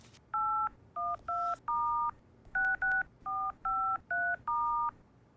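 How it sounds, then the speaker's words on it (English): A telephone number is keyed in as a string of about eleven clear dual-tone beeps, each short and evenly spaced with brief pauses, close and alone. "Mimi, can you help me make a phone call?"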